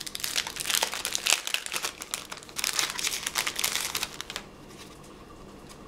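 Paper mail package being opened by hand, with dense crinkling and rustling of paper and packaging in quick irregular bursts up close, easing to quiet near the end.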